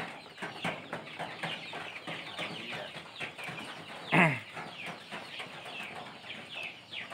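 KUB village chickens cluck steadily in a farmyard, many overlapping birds close by, with one louder squawk standing out midway through the constant chatter.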